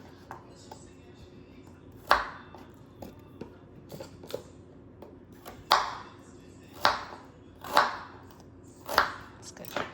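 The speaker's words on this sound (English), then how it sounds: "And then the ginger. Just cut it up a little bit here." A knife chops fresh ginger on a cutting board for cabbage kimchi, giving several sharp, distinct knocks at irregular intervals, a few louder than the rest, over quiet kitchen background.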